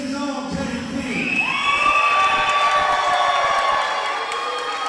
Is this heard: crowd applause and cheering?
yes